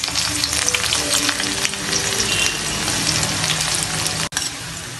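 Chopped onions fry loudly in hot oil with black cumin, a dense, close, continuous sizzle with crackling that fills the whole stretch, broken by one brief dropout near the end.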